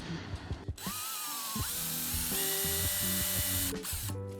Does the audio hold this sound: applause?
no